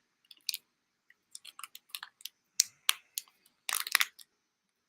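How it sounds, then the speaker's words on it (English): A supplement sachet is snapped open and its contents poured into a glass, heard as a string of small crisp crackles and ticks, sparse at first and then denser, close and faint, with no talk. "You just break that and pour it into your glass."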